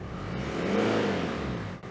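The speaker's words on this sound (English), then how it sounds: "The turbo kicking in and everything." A Mercedes-AMG E63S engine revs with its turbo and exhaust, a steady broad roar that swells in the middle and eases off, loud and close with no voices.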